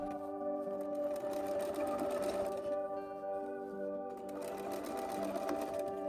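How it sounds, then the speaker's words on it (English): Domestic sewing machine understitching a dress pocket close to its seam, running in a steady continuous whir with a brief slowdown midway, close and alone with no talk. "then we're going to understitch onto the pocket really close here to the seam that we just made"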